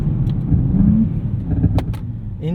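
A 2024 Nissan Z Nismo sits with launch control engaged, its engine giving a low rumbling idle that swells briefly as revs rise, recorded from inside the car with a few small clicks and rattles.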